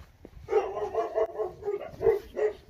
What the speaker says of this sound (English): Somebody's dog's barking.